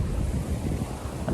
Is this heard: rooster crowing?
no